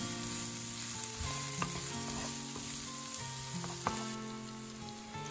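Chicken wings and mushrooms are stirred in a hot wok with melting sugar, giving a steady close sizzle broken by occasional scraping and clinking of the stirring utensil.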